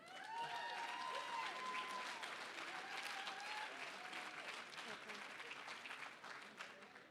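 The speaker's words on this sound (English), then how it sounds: "Please give a round of applause for Connie Johnson." Audience applause at an international auctioneer championship, a full, sustained round of clapping from a large crowd, steady throughout and tapering slightly near the end, with faint voices mixed in.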